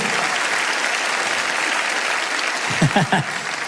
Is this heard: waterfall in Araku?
no